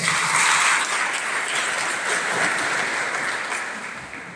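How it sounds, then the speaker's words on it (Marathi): An audience at a sannyas initiation ceremony applauds for Dada's speech, a thick sustained roar of clapping that stays strong before thinning and fading toward the end. "आपल्याला दादांच्या विचारासाठी टाळ्या वाजवायच्या"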